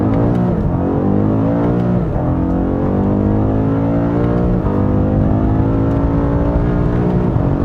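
A BMW M5 CS revs hard under acceleration, its engine note climbing steadily and dropping sharply at each gear change, loud and close with no voices.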